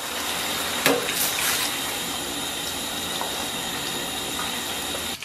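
Hot oil poured onto prepared chili powder, a steady broad hiss and rush of liquid lasting throughout, with a brief splash near the start.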